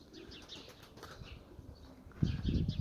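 Pigeon wings flap in flight, a soft fluttering that swells into a louder burst of beating near the end, with faint bird calls in the background.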